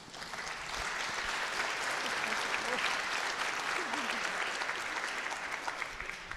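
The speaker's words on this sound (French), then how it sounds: "vous pouvez les applaudir" A conference audience gives a steady, full round of applause for a stroke care team, dense and even throughout with a faint murmur of voices underneath.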